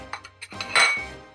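Challah dough being scraped off the metal paddle of an AceKool stand mixer with a silicone spatula: a few light clinks and taps, then a brighter metallic scrape, all close and brief with no talking.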